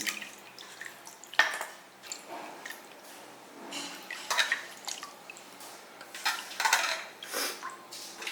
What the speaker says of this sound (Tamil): இந்த மாதிரி கறி வந்து பளிச்சுன்னு ஆற வரைக்கும் நல்லா கழுவிடுங்க.